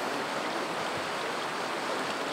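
The Kazretula river, polluted by copper mining runoff just before it joins the Mashavera, rushes in a steady, dense broadband roar that stays constant throughout.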